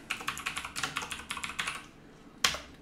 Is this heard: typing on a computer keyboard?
yes